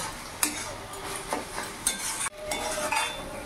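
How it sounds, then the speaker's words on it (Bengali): Ash gourd with shrimp being stirred and fried in an open pan: a steady sizzle runs throughout, broken by scraping and clinking strokes of a spatula against the pan, close and moderately loud. "এইভাবে খোলা অবস্থাতেই একটু নাড়াচাড়া করে একটু ভাজা ভাজা করে নেব"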